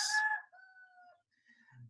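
A rooster on a farm gives a single drawn-out crow, clear and moderately close, that trails off into quiet with faint farm sounds after it.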